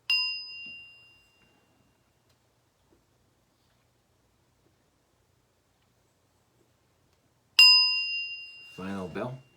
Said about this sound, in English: Final bell.